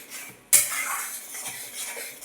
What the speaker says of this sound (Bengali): আমি এই মশলাটা পনেরো মিনিট ধরে কষাবো